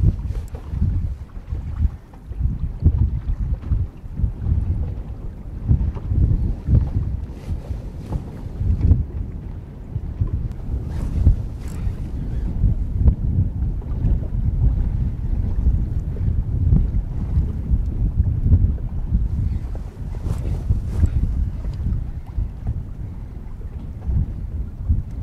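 Steady rumbling wind buffeting the microphone over open water, gusting throughout with a low roar and occasional splashy bursts.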